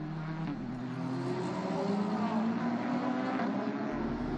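A Porsche endurance race car at its home track during a 2017 FIA World Endurance Championship race, heard as a steady, fairly faint motor roar from a distance as it crosses the finish line, with a broad wash of track noise.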